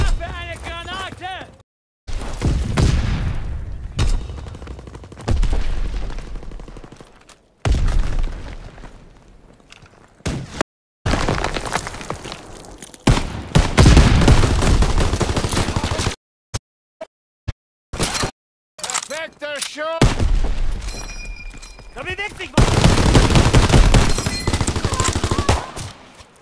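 Grenade explosion and gunfire in the video game Call of Duty WW2: loud bursts of automatic fire, booms and footsteps come in chunks broken by brief silences, with shouted voices among them.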